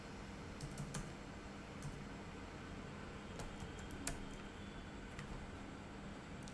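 Faint computer keyboard typing, a few scattered light clicks over steady background hiss, distant and quiet.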